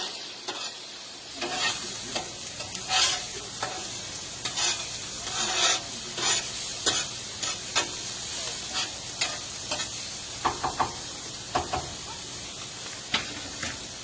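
Steak searing on a Blackstone flat-top griddle, a loud steady sizzling hiss punctuated by frequent sharp spatula scrapes and taps, heard close up with no talking.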